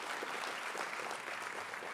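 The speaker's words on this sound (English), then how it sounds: "So give him a very big round of applause." Applause from the audience at the IIT Hyderabad 14th graduation ceremony, a faint, even patter of many hands heard from a distance for a couple of seconds.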